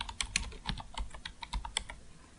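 Typing on a computer keyboard: a quick, irregular run of close, crisp key clicks with no talk.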